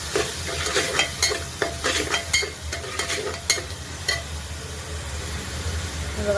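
Spiced mutton curry with turmeric and salt being stirred in a pan, a steady scraping and sizzling with sharp spoon knocks against the metal at irregular intervals, close and continuous, no talk.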